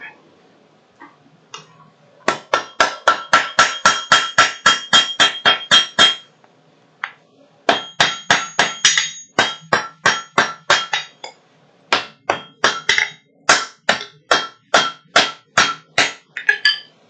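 A power hammer forging metal, delivering rapid evenly spaced blows in three bursts of about a dozen strikes each, loud and sharp with brief pauses between runs.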